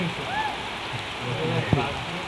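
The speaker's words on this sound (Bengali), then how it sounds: "আমরা দেখতে পাচ্ছি তুমুল ঝড়ে বৃষ্টি হচ্ছে।" Heavy storm rain pours down in a continuous, dense roar close by, with a faint voice briefly audible beneath the downpour.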